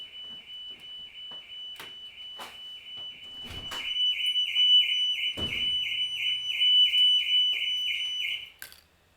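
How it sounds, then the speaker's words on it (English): A car alarm blares with a rapid, repeating electronic chirp that shifts into a louder pulsing pattern, punctuated by a couple of thuds, then cuts off abruptly. "Did you just set the car alarm off?"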